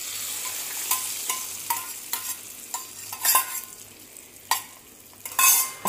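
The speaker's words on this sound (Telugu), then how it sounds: "ఇదిగోండి పోపు పెట్టేసా." Tempering spices fry in hot oil for a gongura pickle, with a steady sizzle and scattered scraping and clinking of a spoon stirring the pan, close and moderately loud, no talking.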